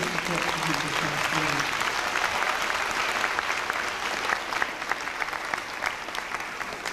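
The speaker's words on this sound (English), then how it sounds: "Please give them a round of applause for all of their support for you this past" A graduation audience at Renaissance High in 1994 applauds the teachers, a loud, steady roar of many hands clapping, with faint voices mixed in early on and sustained for the whole stretch.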